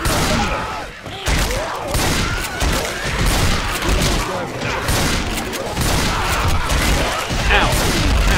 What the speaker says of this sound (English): That's a grenade launcher you shot at me!